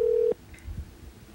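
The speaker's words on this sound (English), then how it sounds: "So we should call Dan Dobler one more time." A single telephone keypad tone sounds steadily and then cuts off, followed by faint handling noise on the line.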